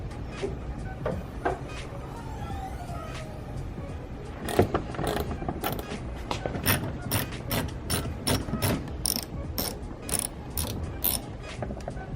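Tools work on a car's front bumper during removal: repeated sharp ratcheting clicks and metallic clatter in uneven bursts, close up, with no talking.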